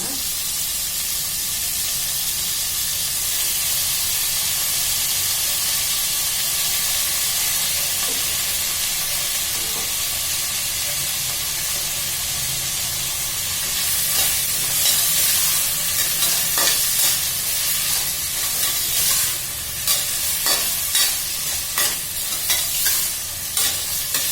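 Jackfruit pieces frying in a little oil for biryani, a loud continuous sizzle close by, with stirring scrapes and clatters growing busier and more frequent in the second half.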